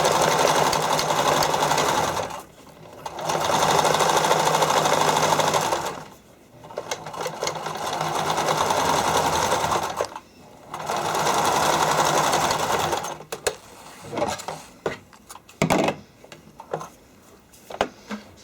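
Sewing machine stitching fabric for figure skating soakers, running in three long bursts separated by short pauses, then a few brief stuttering runs and clicks near the end.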